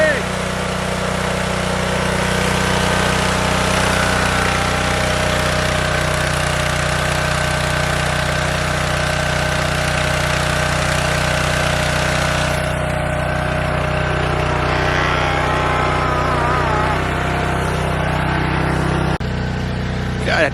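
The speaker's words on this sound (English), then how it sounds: "Or not mower, it's the generator." Loud small generator engine running steadily and close by, a constant droning rumble with a harsh mechanical buzz that holds throughout with no letup.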